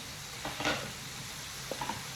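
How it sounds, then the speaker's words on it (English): Shrimp sizzle in a hot pan during cooking, a faint steady frying hiss with a couple of brief scraping stirs. "You see my shrimp back here. It's cooking."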